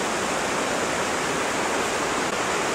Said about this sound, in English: there's a lot of water coming down from the hills